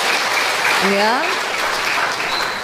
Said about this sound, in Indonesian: Tepuk tangan dong buat jemaat di Cimahi.